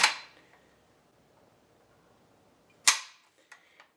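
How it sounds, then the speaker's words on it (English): Action of an Inland Manufacturing M1A1 paratrooper carbine being cycled by hand: a sharp metallic clack, a quiet pause, then a second loud clack followed by two softer clicks, close up with no talking. "And when you put a mag in, it's very stiff, so you pull it back"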